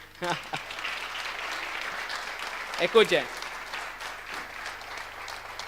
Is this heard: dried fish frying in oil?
no